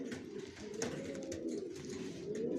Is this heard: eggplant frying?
no